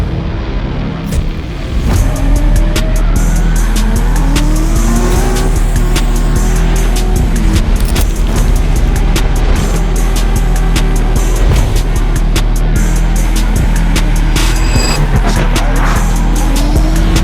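A drift car on a lap, its engine roaring loud and steady for the whole run while the tires squeal in long sliding waves. A voice sounds briefly near the start.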